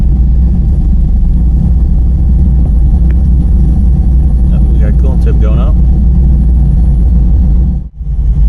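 A 2011 Chevrolet Caprice PPV police car engine runs with a loud, steady low rumble close by, while someone speaks briefly over it before it dips near the end.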